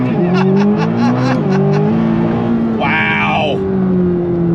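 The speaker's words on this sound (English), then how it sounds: "We're gonna do launch control on throttle." Launch-control acceleration in a 2026 C8 Corvette ZR1, heard from the cabin: a loud engine roar climbing in pitch through several quick gearshifts, with a sharp high whine rising near the end, continuous and dominant.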